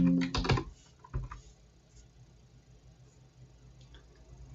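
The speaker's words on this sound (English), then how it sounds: "let's type it in," A short flurry of keystrokes on a computer keyboard, heard up close, followed by a single tap or two and then quiet room hiss for the rest of the span.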